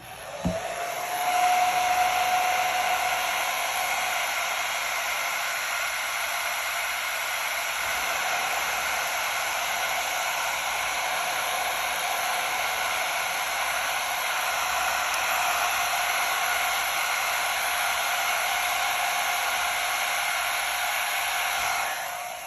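A hair dryer blows steadily and loudly to dry paint on a handmade holiday card, a constant close whooshing hiss that runs unbroken from start to finish.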